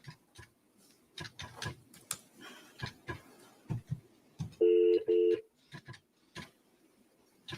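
A telephone rings twice over a speakerphone, with two short, loud, evenly spaced bursts cutting in among speech and room noise from a nearby courtroom-style gathering.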